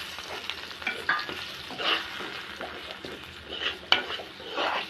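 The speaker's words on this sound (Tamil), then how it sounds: "மசாலா எல்லாம் நல்லா வதக்கலாம்" Masala with tomato, turmeric, chili powder and salt sizzles in a pan, stirred with a spatula that scrapes in irregular strokes; close and moderately loud, no talking.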